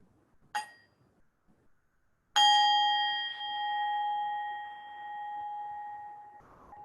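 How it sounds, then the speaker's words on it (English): A small handbell is struck twice: a brief clink, then a clear ring whose tones sustain and slowly fade, close and alone. "I'm just going to invite the sound of a small handbell"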